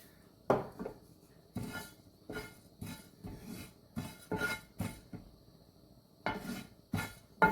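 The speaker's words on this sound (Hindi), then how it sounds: "ऐसे हल्का सा हमने इसको ऐसे रोस्ट करना है।" Two tablespoons of fennel seeds dry-roasting in a preheated pan, with a spatula or spoon clinking and scraping against the metal in repeated irregular strokes, close and fairly quiet, with no talking.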